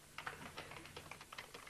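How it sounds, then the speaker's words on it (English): Quick, irregular keystrokes on a keyboard, a run of light clicks and taps with no steady rhythm, heard faintly and alone without any talking. "It's amazing how you women can type."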